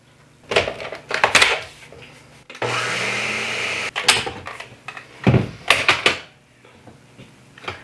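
Gluten-free crepe batter gets one more mix: scraping and knocking of a utensil in a bowl, then a short steady whir of blending for about a second, then more close clattering strokes. No talking.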